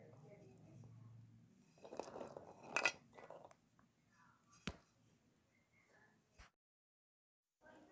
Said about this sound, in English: these are so yummy and so crunchy. Hear the crunch.